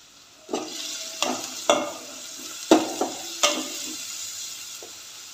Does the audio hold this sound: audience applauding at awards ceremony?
no